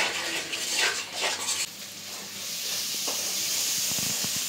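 Ginger-garlic paste with salt is stir-fried in a pan for a village-style dal with rohu fish head, a close hiss of frying with spoon scrapes and metal clinks against the pan.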